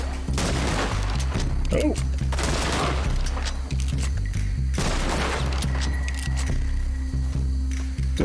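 Gunfire in Red Dead Redemption 2, with a rapid series of sharp shots over a loud droning game backdrop, while a player briefly exclaims.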